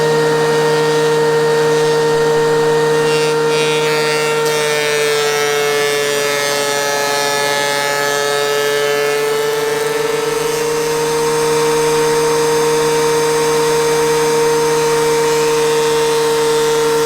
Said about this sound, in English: let's get over to the planer and get them down to size